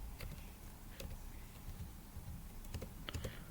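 Light typing on a computer keyboard, scattered clicks and short bursts of keystrokes tapping out text, close and fairly quiet with no talking.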